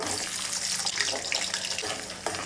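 Panch phoron, whole dried chilies and garlic cloves sizzle in hot mustard oil, a steady loud hiss and crackle heard close up with no talk.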